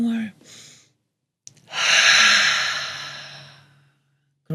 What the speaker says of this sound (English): And one more little breath and out.